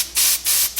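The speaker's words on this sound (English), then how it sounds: "So I'm just going to spray it down." Wig Dealer hair spray misted onto a wig in three close, loud bursts, each a steady hiss lasting about a fifth of a second with brief pauses between.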